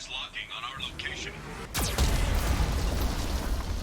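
A Geth cannon fires in the Mass Effect video game, a sudden loud blast about halfway through followed by a sustained heavy roaring rumble, after a stretch of synthetic warning voice.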